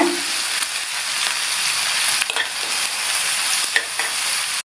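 Green chillies and asafoetida powder sautéing in hot oil in a pan for a ridge gourd dish, a loud continuous close sizzle with a few stirring scrapes, ending abruptly, with no talk.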